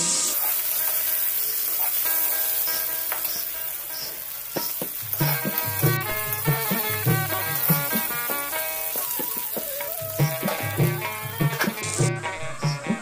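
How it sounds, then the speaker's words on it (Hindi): Fenugreek seeds sizzle in a covered kadhai while making a Chhattisgarhi kadhi dish, a steady hiss running under loud rhythmic background music that dominates throughout. "मेथी ला डालना है और कढ़ाई को अपना ढकना है"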